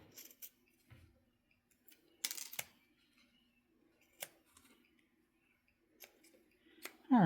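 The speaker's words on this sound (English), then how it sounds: "Now let's cut on this side, might be a little easier." Scissors snipping through ribbon material while making a competition ribbon, a few crisp, quiet cuts spaced apart with pauses between them, alone.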